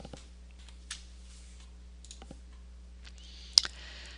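Computer mouse clicks while working in the Desmos graphing calculator: a few sparse, soft clicks spaced over several seconds, with one sharper double click near the end, in a quiet room with no talking.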